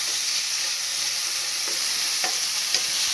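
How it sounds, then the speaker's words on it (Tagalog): Steamed eggplant with onion and tomato sizzles steadily in a pan, with a few faint scrapes of stirring over the continuous frying hiss. "Igisa natin ng kaunti at lalagay na natin yung itlog"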